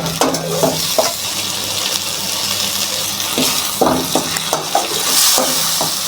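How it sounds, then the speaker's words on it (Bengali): Spice paste for a water lily and prawn curry sautéing in a pan, a steady sizzle broken by sharp scraping stir strokes and spatula clinks, close and fairly loud with no one talking. "মশলাটাকে ভালোভাবে কষিয়ে নিতে হবে"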